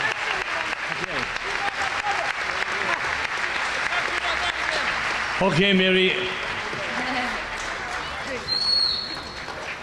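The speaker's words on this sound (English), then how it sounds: "Can we have a big round of applause for he's going to catch a plane, Mr. Mark Simos here" Audience applause at Milwaukee Irish Fest, a broad steady crowd clapping that fills the whole stretch, swelling near the middle and again toward the end, with someone speaking briefly over it.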